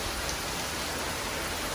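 Heavy rain pours steadily as a dense, unbroken hiss, loud and close, with no voices over it.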